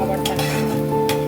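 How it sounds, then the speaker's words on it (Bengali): Onions sautéed in a little butter in a pan make a soft, continuous sizzle up close, with a couple of brief scraping stirs against the pan. "পেঁয়াজগুলোকে ভালো করে আমি সতে করছি"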